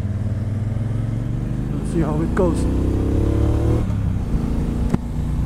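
A 2018 Triumph Bonneville Speedmaster motorcycle engine rumbles loud and close while riding, pitch climbing with throttle through gear changes, as the rider talks over it.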